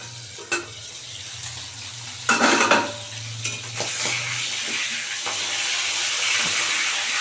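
Vetki fish bone chorchori fries in a pan with a steady sizzle and a low hum beneath it, broken by a few sharp clinks and scraping bursts of stirring, then settling into an even, louder hiss.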